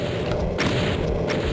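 A loud Doom 2 rocket blast roars close and dense, with two sharp bursts cutting through a thick, continuous rumbling boom.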